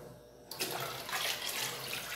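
Tap water pouring steadily into a container as four litres are measured out for homemade soap, a continuous close splashing rush that starts abruptly and continues alone.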